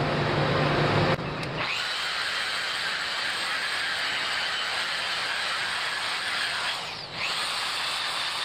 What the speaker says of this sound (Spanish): cambiaremos el disco en la máquina de pulir